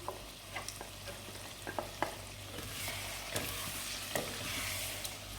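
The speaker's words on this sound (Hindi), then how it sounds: "अब जो पेस्ट बनाया था हमने तली हुई प्याज, टमाटर और हरी मिर्च का, अब ये शामिल कर देंगे।" A paste of fried onion, tomato and green chilli is stirred into spices frying in a pan for murgh cholay, with a low steady sizzle and repeated clicks and scrapes from the spoon.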